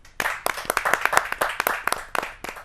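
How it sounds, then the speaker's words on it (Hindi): An audience at a poetry gathering applauds a poet with brisk, close clapping that sounds like a modest crowd, with individual hand claps distinct throughout. "आपकी तालियां मिले इस देश के लाडले कवि को"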